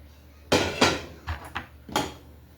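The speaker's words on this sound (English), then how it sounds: "Here's all the shrimp. I'm going to add them back into the sauce." Cooked shrimp tipped from a dish into a pan of scampi sauce, a few close clanks and scrapes of utensil against metal and ceramic in bursts, with no talking.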